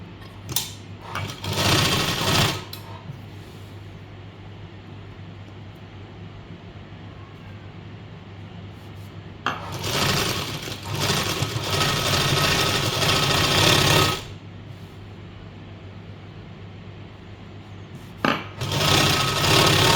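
A sewing machine stitches piping onto the flared hem of a garment, running in three loud, steady bursts separated by quiet pauses, with no one talking.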